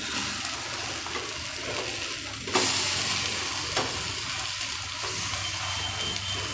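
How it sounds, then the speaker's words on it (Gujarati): A poha pancake browns in a hot pan with a continuous close sizzle and crackle of oil, jumping briefly louder midway as it is turned or pressed, then settling back to an even fry. "બંને બાજુ આવા બ્રાઉન થાય એવા શેકી લેવાના"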